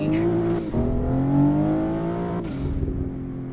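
BMW 340 engine in a racing simulator game revs through a gear change, its tone dipping and climbing again, with a brief tire squeal at the start and no talk.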